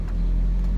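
A manual car's engine idles again after a restart, a loud, steady low drone heard close up with no talking.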